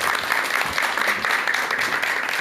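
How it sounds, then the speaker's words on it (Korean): A lecture audience on anxiety and mental health applauds the speaker's introduction, a brief, even wash of clapping from many hands at moderate loudness, with no voices over it. "자, 그럼 큰 박수와 함께 전현수 박사님의 강의 청해 듣도록 하겠습니다."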